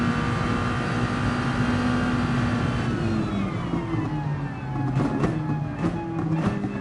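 A racing car engine on a half-speed out lap in a racing game drones loudly and steadily, its pitch sliding down through gear changes and then climbing again, with brief sharp clicks near the end.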